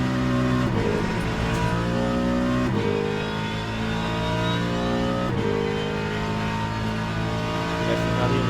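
Ford Mustang race car in Le Mans Ultimate on the Circuit des 24 Heures: a loud, continuous engine note climbs in pitch through repeated gear changes, dropping briefly at each upshift, with no talk.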